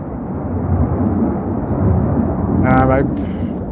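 Low, broad rumble of a plane passing overhead, steady and building slightly, with a brief higher whine near the end.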